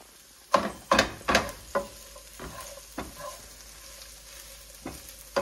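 Onions fry in a Teflon pan for a breakfast burrito, with a few sharp spatula scrapes and stirs early on, then quieter intermittent scraping over a faint sizzle.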